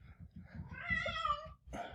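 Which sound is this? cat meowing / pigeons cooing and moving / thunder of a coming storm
cat meowing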